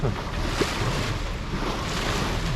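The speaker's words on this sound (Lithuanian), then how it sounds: "Plaukiam su varikliu ir visą laiką šokinėjam per bangas." A sailboat motoring up a river on a windless day, its hull slapping through current-driven waves; a steady, close wash of water and engine rumble with light wind buffeting, no talk.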